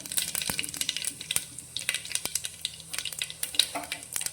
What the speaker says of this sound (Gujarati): તેલ અત્યારે આપણું ગરમ થઈ ગયું છે, તો તેની અંદર આપણે થોડી રાઈ ઉમેરીશું